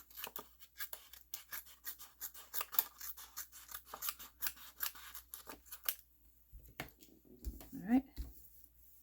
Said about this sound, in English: I'm just going to trim some of this off.